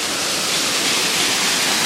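Bean Creek waterfall pours in a dense, steady roar close by, with no one talking over it.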